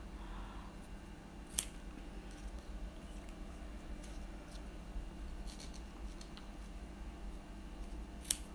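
Quiet, close snipping and rubbing of scissors cutting Braille labels, with a couple of sharp clicks standing out from the faint hiss.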